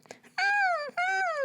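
A singer imitates a whimpering puppy as a vocal warmup: two sustained, high, pinched wailing tones with slowly falling pitch, separated by a short break, close and clear.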